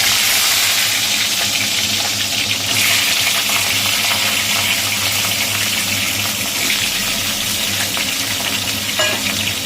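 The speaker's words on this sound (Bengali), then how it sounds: "তেল একদম গরম হয়ে গেছে। এবার এর মধ্যে কচুটা আর কাঁচকলা আলু এটা ভেজে নেবে।" Pieces of taro, potato and raw banana frying in very hot oil, a loud, dense, continuous sizzle that stays steady and close throughout.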